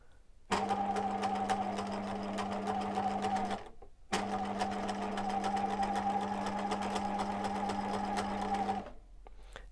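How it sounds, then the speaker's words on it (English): A sewing machine stitches elastic onto a fabric face covering with a steady, close, humming whir, running for about three seconds, pausing briefly, then running again for nearly five seconds before stopping. "I'm going to stitch about the same distance that I stitched the other side"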